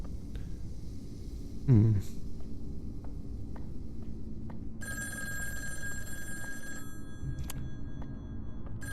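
A telephone rings inside the video game In Sound Mind, a bright bell-like ring that starts partway in and repeats over a low steady hum and rumble, with a short chirp-like sound before it.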